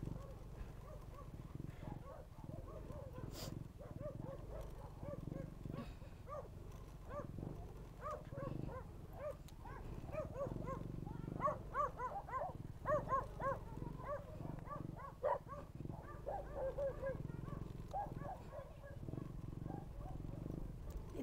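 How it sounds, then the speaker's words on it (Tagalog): Several dogs bark repeatedly on a farm, short yaps scattered through the middle stretch, fairly faint and partly buried under people talking and general outdoor noise. "Ang daming aso naman dito"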